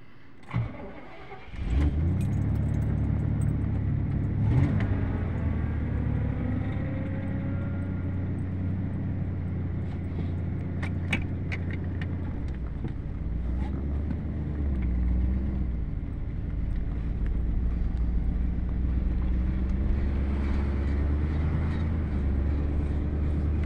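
A 6.0-liter Cadillac Seville V8, driven for the first time after sitting for three to four years, cranks and catches, then settles into a steady, loud low engine drone as the car pulls away and drives on.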